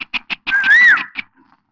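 A person whistles a single, short, clear note that rises and falls, set between a few light tapping knocks in a quiet scene.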